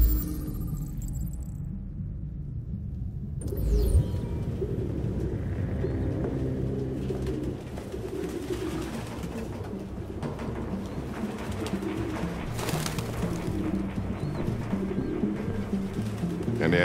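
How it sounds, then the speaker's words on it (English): Pigeons coo in a room in Detroit: Become Human, their soft, low, repeated calls layered over one another throughout. A faint jingle is heard early, and a steady ambient hum runs underneath. "No human could live with all these fucking pigeons."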